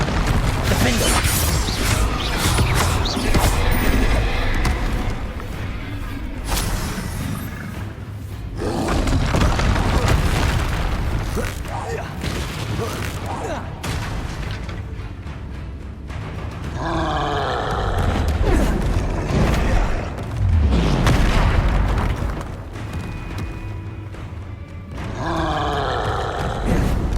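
Spells fly during a Hogwarts Legacy combat fight, a loud dense mix of blasts, whooshes, booms and creature roars and grunts that surge and ebb throughout, with occasional shouted voices.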